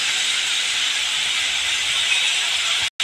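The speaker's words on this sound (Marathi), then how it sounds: "असा मी आता कांदा परतून घेणार आहे चांगला" Onion sizzles as it is sautéed in a pan, a steady bright hiss of frying that stays even and close throughout before a brief cut near the end.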